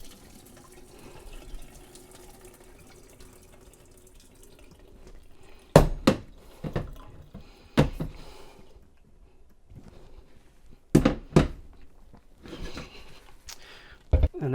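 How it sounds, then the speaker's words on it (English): Water is dumped out of a non-stick deep frying pan held with its lid on, coming in short irregular splashes and pours against a quiet background, several bursts spaced apart and fairly close. "I'm gonna try to hold the lid on it and just dump the water out."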